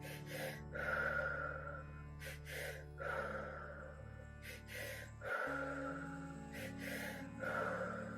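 Deep, powerful breath-work breathing: forceful, audible inhales and exhales repeat in a steady rhythm, close and clear over a soft sustained musical drone.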